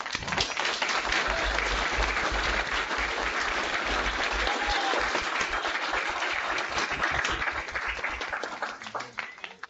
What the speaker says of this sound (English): give a warm round of applause and a welcome to Pro Football Hall of Famer, Mr. Joe Greene.